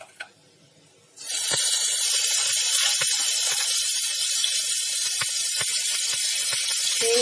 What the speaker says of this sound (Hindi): अब हम इसमें प्याज और लहसुन का पेस्ट डाल रहे हैं।